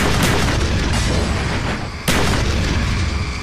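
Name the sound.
Molotov cocktail explosion in the video game Call of Duty Black Ops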